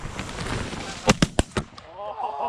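Shotgun blasts from goose hunters in a field, four sharp close reports fired in quick succession, followed by faint distant calls and fading noise.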